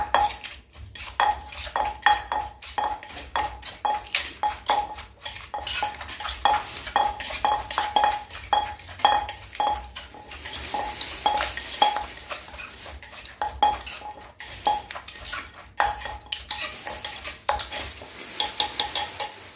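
Papaya salad (som tam) pounded in a mortar, a steady run of rhythmic wooden knocks at roughly two per second with clattering and scraping between them, close and sustained, no talking.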